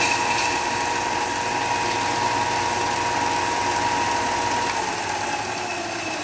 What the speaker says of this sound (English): it's working full blast now